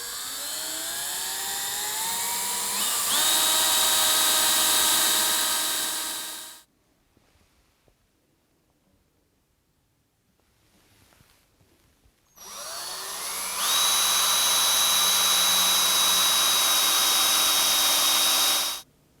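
A power drill bores 3.3 mm pilot holes in a milling machine while a magnetic DRO scale is being mounted. Two loud, sustained whining bursts, each rising in pitch as it spins up, are separated by a quiet pause.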